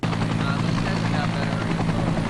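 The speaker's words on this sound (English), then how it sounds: "Helicopters called heli-torches are throwing fire at designated areas to create a line to stop the fire from going any closer to Carmel Valley." Heli-torch helicopters dropping fire along wildfire ridges near Carmel Valley produce a loud, steady rotor thump and engine drone, close and continuous throughout, with a voice speaking over it.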